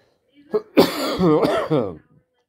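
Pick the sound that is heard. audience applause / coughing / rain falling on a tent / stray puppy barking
coughing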